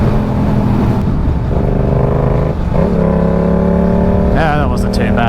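A Yamaha R7 motorcycle is ridden, its loud engine droning and rising in pitch as it accelerates through the gears, with wind noise and a voice talking over it.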